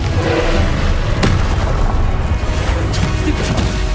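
A Confringo spell blast in Hogwarts Legacy, heard as a loud, sustained booming roar with a sharp crack partway through, dense and close.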